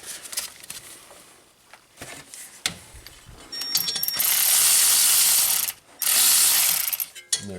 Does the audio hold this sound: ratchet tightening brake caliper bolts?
yes